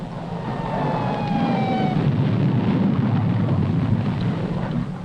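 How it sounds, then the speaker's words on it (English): Ordinary high explosive of a nuclear weapon detonating, heard as a loud sustained rumbling roar that stays broad and steady for several seconds with no voices. "What has exploded is the ordinary explosive, which is an essential part of nuclear weapons."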